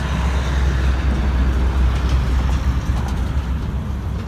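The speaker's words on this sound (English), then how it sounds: "These big gravel semis just went over and it really shakes the whole bridge." Big gravel semi trucks cross a bridge above a river near a dam, sending up a steady, heavy low rumble that holds loud and continuous throughout with no talking.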